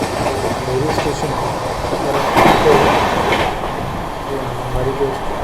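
A local train on an Indian railway rolls past alongside, a loud steady rumble with rhythmic clickety-clack of wheels over rail joints and faint wheel squeal, swelling briefly midway, with voices talking underneath.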